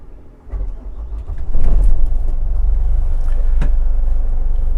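Diesel motor of a Botnia Targa 25 motor boat cranking and catching, building in steps from a low rumble into a loud, steady, close-up idle.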